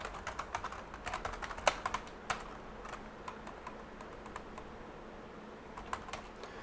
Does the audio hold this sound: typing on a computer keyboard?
yes